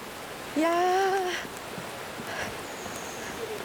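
Cascades and a waterfall near Stopica cave in Serbia give a soft, continuous rushing wash heard from a distance, broken early by a brief sharp voice exclamation.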